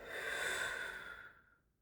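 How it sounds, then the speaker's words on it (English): A slow, deep breath drawn in through the nose, a close airy hiss that swells and then fades away to silence, with no speech. "A deep breath through your nose, hold it for a few seconds and"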